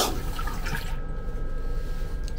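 Water gushes steadily from a train tap in a short, continuous rushing stream with no voices.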